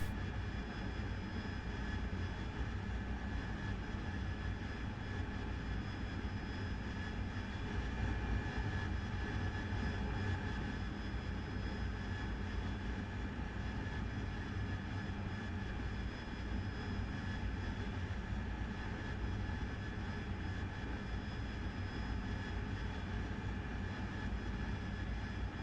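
An AV-8B Harrier jet engine drones steadily at cruise throttle during a training flight, a constant broadband roar with a faint whine heard from inside, unbroken throughout.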